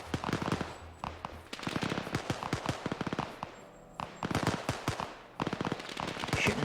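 Continuous close gunfire in Arma 3, with dense bursts of automatic fire and rapid single shots crackling throughout, pausing briefly between volleys, loud and sharp with no voices.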